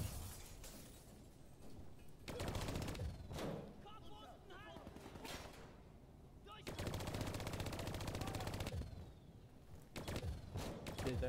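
Bursts of video game gunfire in Call of Duty Black Ops 3, with dense rapid rattling volleys separated by calmer stretches, loud and close, with game sounds and some talk mixed in.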